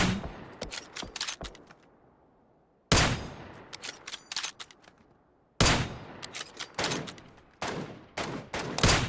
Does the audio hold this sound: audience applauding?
no